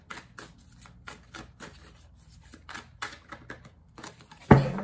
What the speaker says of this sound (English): Okay, a couple more shuffles, we'll get it cracking for you.